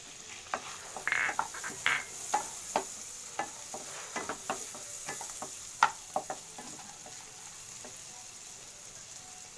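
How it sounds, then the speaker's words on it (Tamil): Spring onion greens and bulbs sautéing in a pan for butter chicken rice, with a steady soft sizzle under repeated scraping stirs and light clicks of a spoon against the pan, close and moderately quiet. "இதில் வெங்காயத்தாள், அதில் இருக்க வெங்காயம் கொஞ்சோடு தாளோட இதில் போட்டு வதக்கிக்கலாம்."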